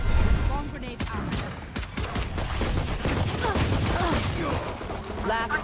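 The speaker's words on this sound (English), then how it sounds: "Placing swarm grenade. Swarm grenade out." A swarm grenade goes off in Valorant as a rapid burst of sharp cracks and pops, with chaotic gunfire layered underneath a loud and busy mix.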